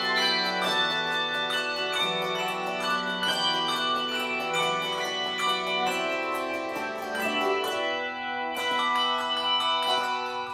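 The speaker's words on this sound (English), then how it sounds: "We have 14 amazing musicians in the Milwaukee Handbell Ensemble who play 6 octaves of bells, 73 bells." A fourteen-member handbell ensemble plays six octaves of bells at a holiday pops concert, sustained layered chimes ringing continuously with overlapping strikes and a brief pause near the end.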